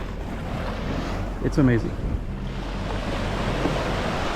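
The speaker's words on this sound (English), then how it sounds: "what a beautiful beach." Ocean waves wash onto a beach in Aguadilla, Puerto Rico, a steady surf roar mixed with wind buffeting the microphone, while someone briefly speaks near the middle.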